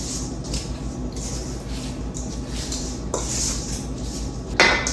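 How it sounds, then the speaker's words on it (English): S'mores cookie dough mixed by hand in a bowl, with intermittent scraping and clinking of a utensil against the bowl, ending in a sharper knock. "So, just mixing by hand."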